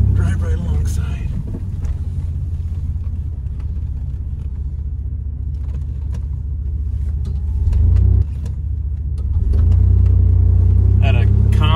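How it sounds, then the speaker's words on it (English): An old pickup truck drives slowly alongside a fence on a farm, its engine a steady low rumble throughout with a brief dip and a louder push near the end, while someone talks over it. "Hopefully I can just sit in the pickup here, drive right alongside."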